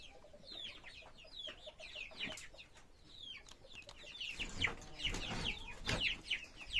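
Leghorn chicks and chickens clucking and peeping at close range, a busy mix of repeated chirps and clucks with a few louder bursts of fowl calls toward the end.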